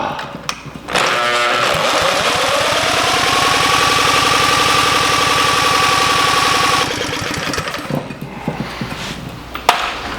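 A restored 1940s engine cranks, catches and runs with a loud, steady mechanical chatter for several seconds before cutting out, followed by scattered clicks and knocks.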